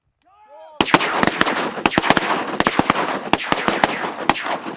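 A quiet bird call, then a rapid barrage of loud, sharp shotgun blasts fired at ducks in quick succession outdoors in Kansas, many overlapping blasts with irregular spacing.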